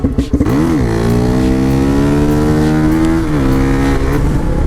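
An old dirt bike engine idling and revving close by, a loud steady drone that rises in pitch, holds, then drops back, after a few rough sputters at the start.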